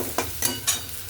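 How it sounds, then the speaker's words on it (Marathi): Chopped onion fries with garlic and ginger in a pan, a continuous soft sizzle broken by three brief stirring scrapes close by. "कांदा 1 मिनिटभर परतून घेऊ."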